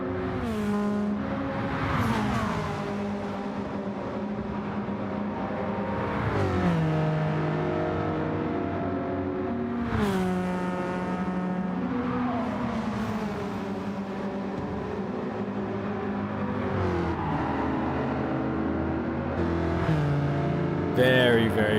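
A Gran Turismo 7 race car replay, with the engine roaring steadily through repeated rev rises and sharp shift drops, several throttle surges spaced a few seconds apart, and a voice talking faintly underneath.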